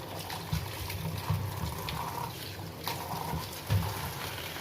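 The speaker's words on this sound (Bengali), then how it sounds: "এখন এগুলো জল দিয়ে ধোবো" Raw green mangoes are washed in water, with close splashing, trickling and soft knocks of fruit in the water coming in a few uneven bursts, and nobody speaking.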